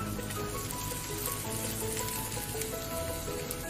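Rawa (sooji) onion dosa sizzling in a pan with butter over medium-high heat, a steady dense crackle and hiss that fills the whole stretch without pause.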